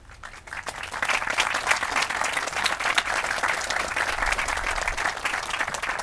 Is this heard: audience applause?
yes